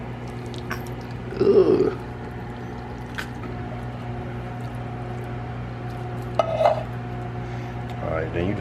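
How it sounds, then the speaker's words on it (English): Bean chili is scooped with a spoon from a pot, giving a couple of soft wet scrapes and clinks, close and fairly quiet, against a steady kitchen hum, with a brief voice. "Why don't you scoop it out with the spoon?"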